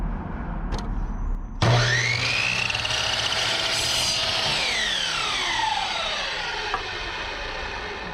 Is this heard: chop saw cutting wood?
yes